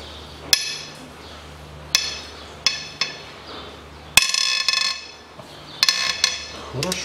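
Cylinder head bolts on a 2003 Toyota Harrier engine, 12-point M12 heads, worked with a wrench: sharp metallic clanks and ratcheting clicks at irregular intervals, close up, with a short rattling burst in the middle.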